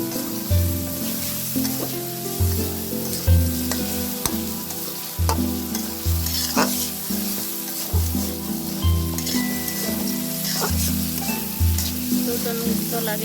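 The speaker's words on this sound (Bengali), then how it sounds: "এখন হচ্ছে ভালো করে ভেজে নেড়ে নিচ্ছি" Turmeric and coriander spices sizzle steadily in a pan while being stirred for a shing fish dopiaza. A continuous hiss runs throughout, over a rhythmic, repeating low pulse.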